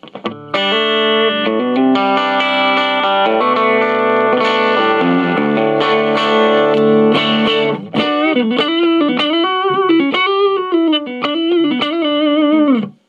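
Electric guitar through a clean tube amp with no reverb, playing sustained chords, then a wavering bent melody line, with a fairly clean tone and a slight gritty edge.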